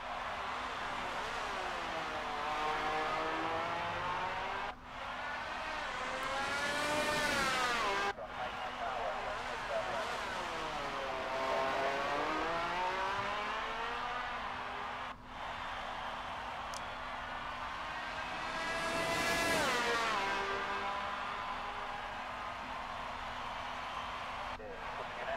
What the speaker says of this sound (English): I'm going to let you listen to a lap of me driving around the 1976 Ferrari